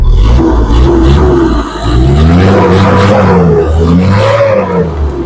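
A Mazda Bongo double cab 4WD with a diesel engine revs loudly through its muffler, a close, steady roar with rising and falling pitch sweeps and one brief dip, heard alone.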